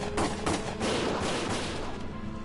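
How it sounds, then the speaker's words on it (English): Gunfire rings out in the Valkyria Chronicles video game, a few sharp shots and short bursts at the start, then fading into a rumbling battle backdrop. "Gunfire!"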